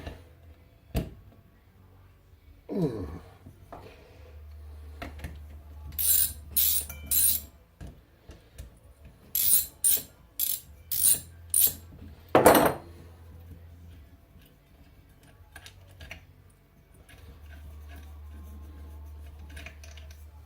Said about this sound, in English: I'll have to get a wrench for that